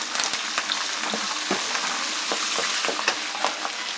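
Curry leaves and chili powder crackle and sizzle in hot oil for a tamarind gojju, a steady dense frying hiss with sharp pops scattered throughout, close and fairly loud, no voices.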